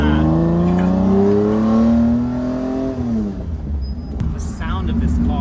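A 1991 Lamborghini Diablo with a Capristo exhaust revs hard up through its range, a loud, close, rising engine howl that peaks and then falls away into a lower idle rumble.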